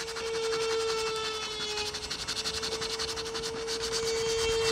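A fibreglass boat hull is sanded by hand during impact-damage repair, a close, steady rhythmic rubbing and rasping over a constant tonal hum.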